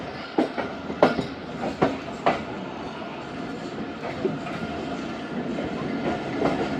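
The Khyber Mail passenger train runs on its rails with a steady rumble and a regular clickety-clack of wheels over rail joints, heard close from on board and without speech.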